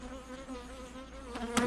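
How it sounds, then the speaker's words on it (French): Honeybees humming around hives in an organic orchard on a calm evening, a steady low buzzing drone, soft and continuous, with a brief closer rustle at the end. "Avec le chant des abeilles."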